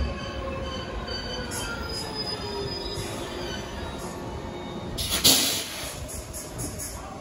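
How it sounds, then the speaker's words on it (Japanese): A limited express train pulls into platform 3 at Hitachi Station at night, steady rolling rumble and hiss with squealing wheels and a brief brake screech near the end. "3番線到着の列車は上り最終特急列車日立30号品川行きです。"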